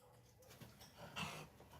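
A dog whimpers and pants softly indoors during a crochet session, faint breathy panting with a brief higher whine near the end, no voices over it.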